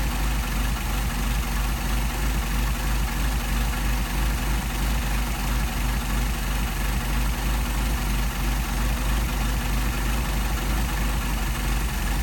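A Solex carburetor on Frank's car holds a steady, loud engine idle as its adjusting screw is turned, a continuous low rumble with no talk over it.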